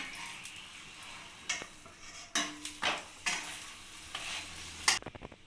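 Cauliflower paratha frying in oil in a pan, a quiet sizzle broken by repeated scraping and clinking of a spatula against the pan, close and without speech.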